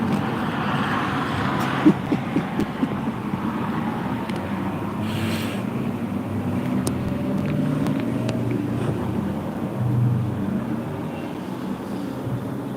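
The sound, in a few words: road traffic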